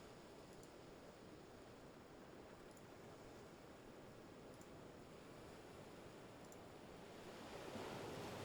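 Ocean surf rolls in a constant, noisy roar of breaking waves, very soft overall, swelling slightly louder near the end with no voices.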